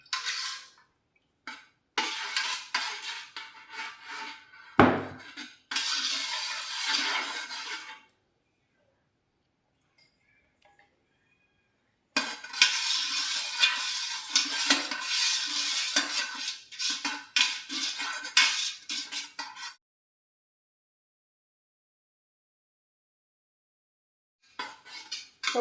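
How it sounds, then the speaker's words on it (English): A utensil scrapes and stirs fragrance oil into melted candle wax in a metal melting pot, in bursts of rapid clinking and scraping broken by long silent pauses. "So we just have to stir this for a few minutes to bind our fragrance oil and our waxes."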